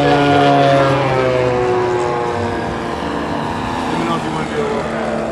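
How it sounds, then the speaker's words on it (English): A T-38 jet making a low pass over a runway, a loud sustained engine roar with shifting tonal whine that slowly fades as it passes, heard close and dominating the scene. "T-38 low pass over runway."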